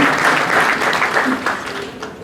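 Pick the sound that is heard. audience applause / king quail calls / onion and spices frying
audience applause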